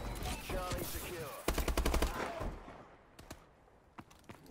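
Rifle fire in a capture-the-flag shooter game: a rapid run of sharp, loud cracks, then a few isolated shots that trail off more faintly.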